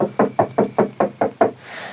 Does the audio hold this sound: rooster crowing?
no